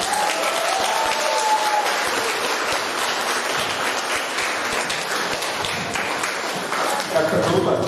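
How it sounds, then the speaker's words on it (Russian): A church congregation at a Sunday service applauds steadily, a dense, even wash of clapping from many hands that carries on throughout, with voices mixed in underneath. "Давайте мы еще раз тогда Богу аплодисменты дадим"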